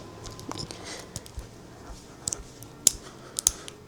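Scissors snip in a few sharp, quiet clicks among soft handling rustles in an indoor room, spread unevenly over several seconds.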